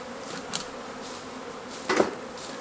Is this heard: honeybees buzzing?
yes